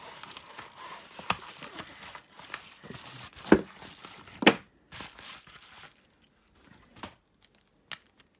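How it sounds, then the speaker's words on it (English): A knife slices into action figure packaging, giving a few sharp crinkling cuts and rustles up close, then quieter handling sounds trail off. "let's just give it a cut right in here and get this open"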